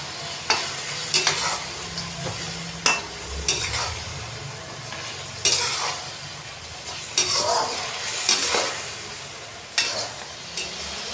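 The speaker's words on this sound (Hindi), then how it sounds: "इसको तकरीबन 4 से 5 मिनट मज़ीद हम भून लेंगे मसालों के साथ" Mutton chunks sizzle and fry in a karahi with spices and ginger-garlic paste while being stirred, with steady sizzling and repeated scraping of the spoon against the pan.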